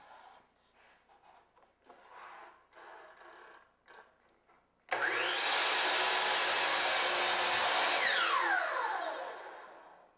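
Crown molding being cut with a power saw in a woodworking setup: after a few seconds of faint handling and shuffling, the saw starts abruptly and roars loudly and steadily through the cut, its pitch dipping as the blade bites.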